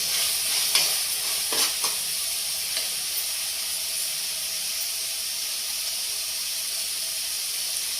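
Onion paste, green chili and tomato paste frying in a tempering for gongura chicken, a steady sizzling hiss with a few stirring scrapes near the start, then a continuous even fry.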